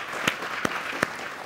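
Sparse claps from an audience at a year-end television talk show, three distinct hand claps about a third of a second apart over a soft room murmur, with no sustained applause building.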